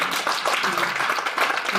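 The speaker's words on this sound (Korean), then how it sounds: "하나님 앞에 영광의 박수 드리시겠습니다." Congregation applauding in a church service, a dense, steady wash of clapping from many hands lasting throughout, fairly close and even in loudness.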